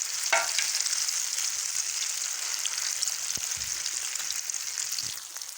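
Masala hits hot ghee with a loud, steady sizzle and crackle, stirred in a pan throughout; no one speaks.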